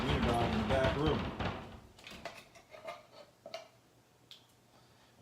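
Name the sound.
dog banging on a door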